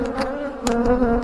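Honey bees drone loudly and close during a hive inspection of a honey-bound colony that has a second brood box, with a steady buzzing tone that swells briefly now and then.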